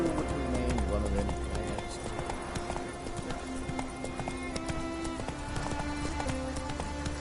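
Roach the horse galloping in the video game The Witcher 3, a fast, steady clip-clop of hooves over a continuous musical and ambient game score, with occasional snorts, no break in the rhythm.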